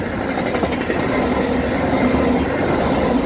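VIA Rail passenger train with a Siemens set passing at night, a loud close continuous roar of wheels and rail with faint rhythmic clatter and a steady tonal hum, no voices.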